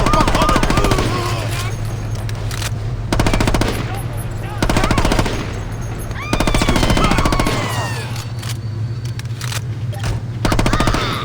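An AR-47 rifle in a Saints Row video game mod fires in long rapid automatic bursts. The shots are loud, close and continuous, with short pauses between bursts, and a voice is faintly audible underneath.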